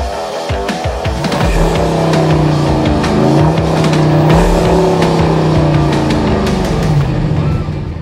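A loud 6.4-litre (392 cubic inch) Hemi V8 engine in a Dodge Durango SRT revs hard, its pitch rising and falling in long sweeps, with a continuous roar from start to finish.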